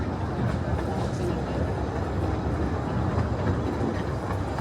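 A double-headed heritage steam train passes at a railway gala, two locomotives hauling it, as a steady, loud rumble of rolling wagons fills the whole stretch, with faint clickety-clack.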